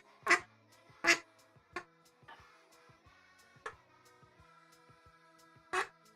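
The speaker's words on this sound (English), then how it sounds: "You guys also get to see the duck as well." A duck quacks in loud, separate bursts a second or more apart, each one sharp and close, with quiet stretches in between.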